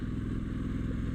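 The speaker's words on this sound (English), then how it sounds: "the whirl, like the Triumph whirl of that engine, that high-pitched tone" Triumph Street Scrambler motorcycle engine running steadily, giving a pulsing low exhaust rumble with a faint higher whirl, close and continuous, with no talk.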